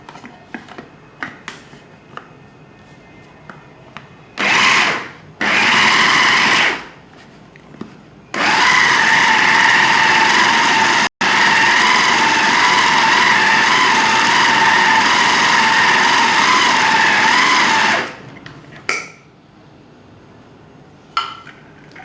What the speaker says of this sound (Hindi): अब मैं पहले इसको पीसती हूँ